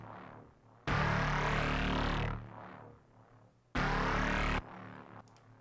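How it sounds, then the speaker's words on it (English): Heavy layered synth bass in an electronic music drop, two loud dense bursts of thick sustained tone with quieter gaps between them. "The synths are way heavier."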